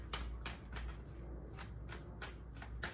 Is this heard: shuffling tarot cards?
yes